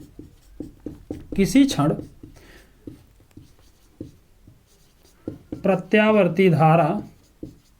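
A marker or chalk taps and scratches steadily on a board during a physics lesson on alternating current, in short regular strokes, while someone speaks Hindi over the writing in two bursts.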